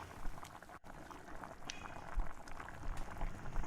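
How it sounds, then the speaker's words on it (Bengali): Mustard gravy for a pabda fish curry bubbles at a steady boil in a pot, a continuous close crackling and popping simmer with no voices. "ঝোলটা এখন ফুটে উঠেছে"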